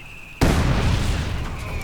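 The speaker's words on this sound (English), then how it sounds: "Heavy mortar continues to launch away." A heavy mortar fires in the Company of Heroes 2 battle game: one loud, sudden boom, then a dense, rumbling wash of battlefield noise that carries on at a steady level.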